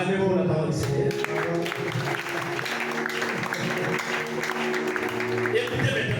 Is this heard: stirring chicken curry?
no